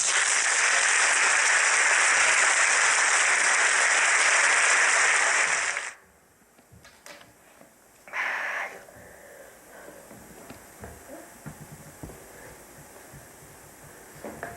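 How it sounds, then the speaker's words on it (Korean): A church congregation applauds to welcome the pastor to the pulpit, producing a dense, steady wash of clapping for about six seconds before it cuts off. Quiet room noise and a brief soft burst follow. "우리 박수로 모시겠습니다"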